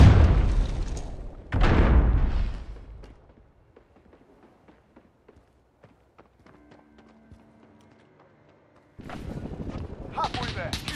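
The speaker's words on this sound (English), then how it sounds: "Enemy cluster strike incoming. Take cover." Cluster strike explosions in Call of Duty: Modern Warfare 2019 during a team deathmatch: two heavy booming blasts at the start, a quieter stretch of scattered clicks and faint tones, then renewed loud rumbling gunfire and explosions near the end.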